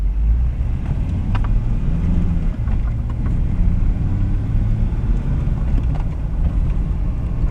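Manual transmission car driving and shifting up through the gears, a steady close engine rumble with slight pitch changes between gears, no talking.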